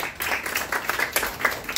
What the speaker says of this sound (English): Big clap for Tariq.